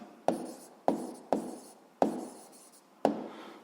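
Writing on paper during a physics lesson: five sharp pen taps and short scratchy strokes at an uneven pace, close and fairly quiet, with no talking.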